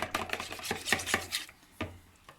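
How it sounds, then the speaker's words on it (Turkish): Whisk beating liquids together in a bowl for vanilla cookie dough, a quick run of sharp clicking taps against the bowl, close and fairly quiet, with no talking. "Şimdi arkadaşlar sıvıları birbirine karıştıracağım. Şimdi bunu çırpıyorum."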